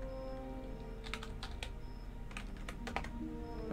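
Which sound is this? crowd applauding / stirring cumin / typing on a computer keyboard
typing on a computer keyboard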